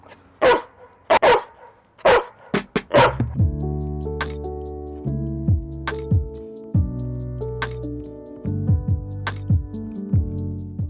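A few loud close barks from a dog, then sustained musical tones with occasional barks cutting through.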